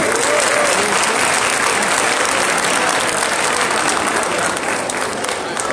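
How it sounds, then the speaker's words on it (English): A large crowd at a Martin Luther King community breakfast in Pacoima, California gives sustained, loud applause for the city's police chief, a dense steady roar of clapping that fills the room and barely tapers at the end. "Can we just give another round of applause to our Chief of Police,"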